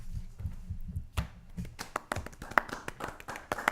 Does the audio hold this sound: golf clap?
yes